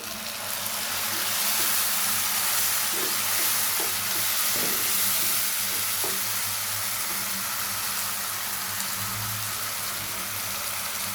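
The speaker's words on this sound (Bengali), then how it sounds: "পেঁয়াজগুলো একটু ব্রাউন কালার হয়ে গেছে এই পর্যায়ে দিয়ে দিব আমি টমেটো পেস্ট" Browned onions and tomato paste fry in a pan with a steady, loud sizzle and hiss, broken by occasional soft stirring knocks, with no voices.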